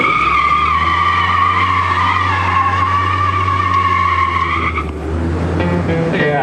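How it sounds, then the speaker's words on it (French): Car tires squealing in a long, sustained, loud screech with a steady engine drone underneath, the tone shifting near the end as the skid eases and resumes. "Eric Hutchinson, son heureux propriétaire, a hâte de faire crisser ses pneus sans polluer"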